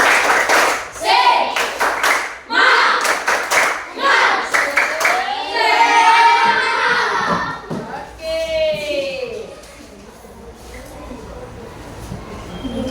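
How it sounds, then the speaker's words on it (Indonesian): A classroom of students claps a quick rhythmic spirit clap in unison, sharp, loud, closely spaced bursts, followed by a teacher's voice and children chattering. "Tepuk semangat dulu, tepuk semangat."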